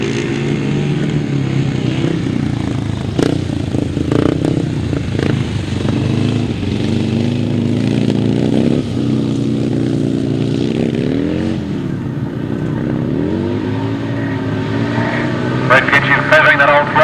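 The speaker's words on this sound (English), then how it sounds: "Fred Kinchin feathering that old throttle and taking second place" Racing motorcycles (sidecar outfits, with the British champion crossing at the checkered flag) roaring and revving at the finish line, a continuous loud engine drone under excited race commentary.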